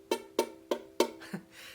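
Four plucked strums on a ukulele, evenly spaced, then a fifth weaker strum with a buzzy, rattling tone as it fades, from a string pressed too lightly.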